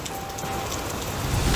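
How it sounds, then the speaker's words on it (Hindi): Steady rain hisses and patters through a cartoon storm in a forest, a dense loud wash that grows slightly heavier toward the end, with no talk. "तभी ऊपर से बारिश भी शुरू हो गई।"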